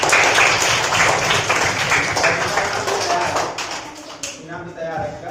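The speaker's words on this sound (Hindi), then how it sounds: "इसके लिए जोरदार ताली।" Loud, dense applause from a school audience at a quiz event as a Class 3 student is praised for a perfect score. The clapping fills the whole clip, with voices mixed in, and thins slightly toward the end.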